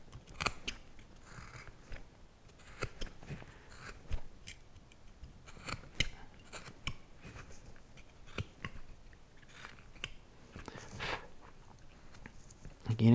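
A carving knife makes a cut on a carved wooden face, producing a steady run of close, crisp cutting and scraping strokes with no talk.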